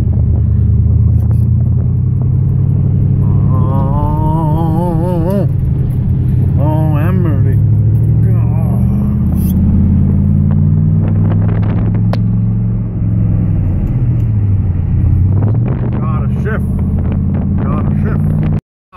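A car engine drones and rumbles steadily while driving, its pitch rising and dropping as gears shift, heard from inside the cabin with someone talking over it.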